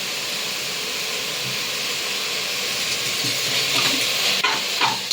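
Mushroom biryani mixture fries in a pan with a continuous close hiss and sizzle, and a few soft scraping strokes of stirring come near the end.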